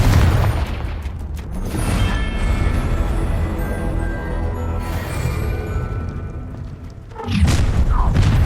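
A Confringo blasting spell goes off in Hogwarts Legacy, a loud, dense rumbling blast that holds for several seconds before another heavy impact near the end, with no voice over it.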